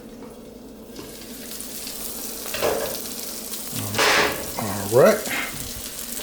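Tuna burgers sizzling as they fry in a pan, a steady close crackle that swells with a few louder bursts as they are moved, while someone speaks briefly over it.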